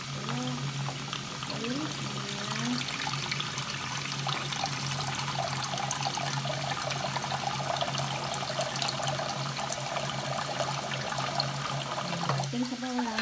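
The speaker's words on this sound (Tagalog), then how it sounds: "Nilagyan ko ng konting tubig dahil dry po ito." Water is poured into a pot of mung bean soup with chicken as a continuous, steady rushing pour that lasts for most of the stretch, with a brief spoken word near the end.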